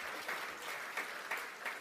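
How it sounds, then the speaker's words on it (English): Audience clapping at the closing plenary of a conference, honouring the event organisers, a steady mid-level patter of many hands with a few louder bursts, heard alone without voices. "So a round of applause for all those people who've made"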